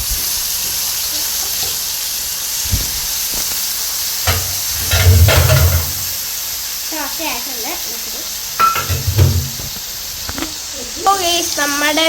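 Beef frying in a hot pan, a steady sizzling hiss with bursts of louder crackling and stirring, while a person speaks at moments.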